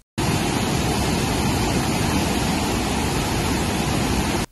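Water rushes through nine opened dam gates at Himayat Sagar reservoir in Hyderabad, a loud, steady, broadband roar of torrential flow that holds without a break from start to finish, with no voices.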